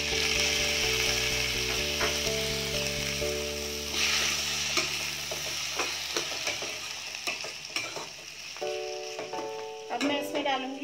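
Roughly chopped tomatoes sauté in a pan for paneer butter masala, a continuous sizzle with stirring scrapes and a few utensil knocks, under a steady tonal background hum.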